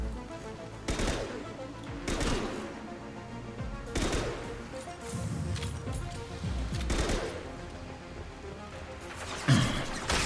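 Rifle fire in Mass Effect 2 comes as heavy, spaced bursts of loud shots roughly every two seconds, booming and close, with some combat clatter between the volleys.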